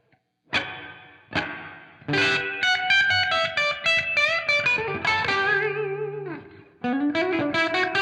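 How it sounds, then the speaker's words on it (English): Electric guitar notes and chords ring out through a plate reverb pedal with a lush, shimmering reverb tail, played alone with brief pauses between phrases. "It's just a tiny but extremely powerful reverb that it's plate reverb"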